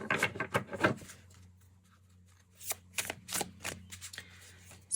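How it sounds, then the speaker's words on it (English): Matte-finish oracle card deck riffled in a dealer's shuffle: a quick burst of crisp, papery card flutters up front, then a pause and several more separate riffles and taps, close and moderately quiet. "if you want a really good shuffle, you can do a dealer's shuffle"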